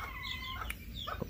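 A Lemon Blue hen in a backyard coop gives a few soft, close clucks in a short burst with no talk.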